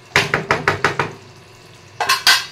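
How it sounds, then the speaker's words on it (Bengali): Spice paste of masala frying in oil in a wok for chicken, with a run of six sharp scraping stir strokes in quick rhythm, a pause with a low sizzle, then two more loud strokes. "মশলা দিয়ে দিয়েছি কড়াই, মশলাটা দিয়ে ভালো করে কষি।"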